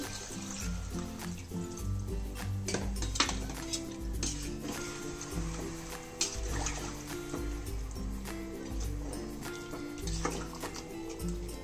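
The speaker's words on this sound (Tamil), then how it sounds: "தண்ணி ஊற்றலாம்." Water is poured into a pot of rice for homemade mushroom dum biryani, a steady splashing trickle over busy background music.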